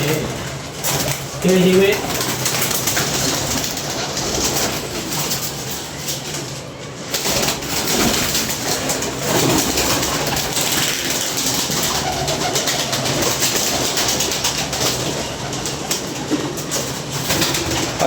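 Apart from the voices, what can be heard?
pigeons cooing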